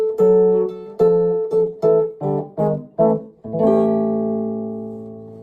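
Chicago-style electric blues guitar plays an ending in A: a quick run of picked double stops climbs up to a barre chord with an added seventh, which rings out long and slowly fades.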